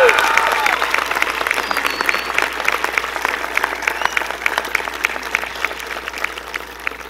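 An audience at a high school graduation ceremony applauds the graduates, a broad, sustained roar of clapping from a large crowd, strongest at the start and slowly thinning, with some voices mixed in.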